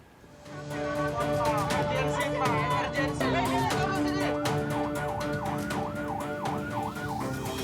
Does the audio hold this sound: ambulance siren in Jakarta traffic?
yes